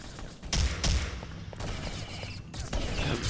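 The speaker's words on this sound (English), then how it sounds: "He's been shot long range" Gunfire rattles through a competitive shooter video game match in a Nations Cup grand final, repeated bursts of shots at moderate loudness over a constant background din, with no talk heard.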